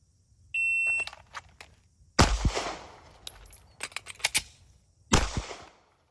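Pistol fire during an appendix-carry speed reload drill, opening with a shot timer's electronic beep, then sharp close gunshots in two quick bursts separated by a short pause for the reload, with a final shot.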